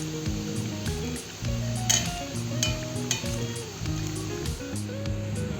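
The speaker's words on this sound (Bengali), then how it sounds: "উলট পালট করে ব্রেডগুলোকে আমি ভেজে নিচ্ছি।" Slices of bread pakora fry in hot oil as they are turned in the pan, a soft continuous sizzle with light stirring noises under background music.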